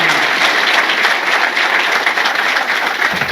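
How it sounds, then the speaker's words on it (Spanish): Crowd at a book launch clapping loudly and densely, a brief burst of applause that carries on evenly to the end. "Un fuerte aplauso"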